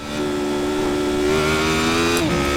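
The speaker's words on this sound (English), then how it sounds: "I'm going to let you guys enjoy the sounds of the Radical Nordschleife" Radical SR8 V8 race car screaming around the Nordschleife in iRacing, a loud sustained engine note held steady, then a quick shift and rising pitch near the end, with no talk.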